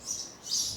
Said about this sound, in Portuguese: esses passarinhos, rapaz, é chato demais